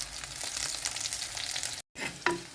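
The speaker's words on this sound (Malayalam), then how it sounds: "അപ്പോൾ നമ്മുടെ ചെറിയ ഉള്ളി നന്നായി വഴറ്റിയെടുത്തിട്ടുണ്ട്." Small onions with curry leaves sauté in a hot pan, giving a steady close-up sizzle and frying crackle with a brief pause near the end before it resumes.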